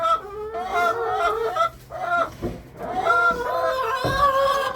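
Hens clucking and squawking busily inside a coop with wood shavings, close and continuous, overlapping calls of several birds with occasional rustling.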